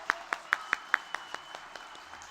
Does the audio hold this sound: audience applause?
yes